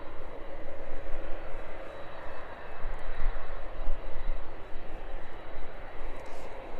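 A jet airliner taxis onto the taxiway at East Midlands Airport, its steady engine roar loud and continuous, swelling slightly as it rolls past with no other sounds on top.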